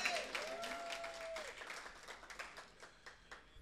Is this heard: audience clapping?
yes